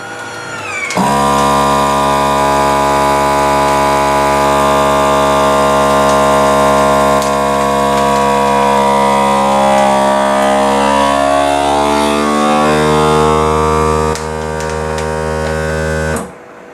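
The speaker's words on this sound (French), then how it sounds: "on va tenter de faire la mise sous vide après un quart d'heure au congélateur" Vacuum sealer running steadily as it seals a bag of carrots chilled a quarter hour in the freezer for sous-vide cooking, a loud continuous humming motor tone that holds for about fifteen seconds, then shifts pitch near the end before cutting off.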